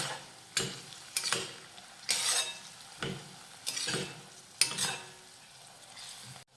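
A spiced vegetable mixture with chopped coriander is stirred in a pan, a spoon scraping and clinking in about six distinct strokes over a low sizzle, close and fairly quiet, with no talking.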